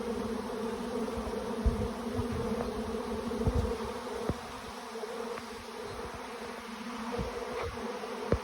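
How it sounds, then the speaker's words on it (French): A honeybee swarm settles on a tree branch outdoors, filling the air with a continuous, even buzzing drone and a few faint knocks in the background. "Allez, l'essaim est posé, on le voit là."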